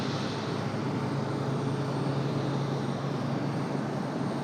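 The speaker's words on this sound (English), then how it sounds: "Comes our Delta 1407 off to Detroit, Michigan. A320." A Delta Airbus A320 jet at Raleigh-Durham airport, a steady broadband engine roar with a low hum, constant and moderately loud at a distance, no voices.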